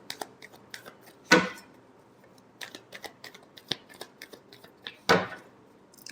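Tarot cards are shuffled in two short riffling bursts a few seconds apart, with light taps and clicks of card handling scattered between them in an otherwise quiet room.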